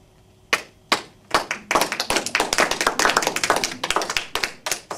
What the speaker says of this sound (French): Ils ont été gentils et même ils ont applaudi.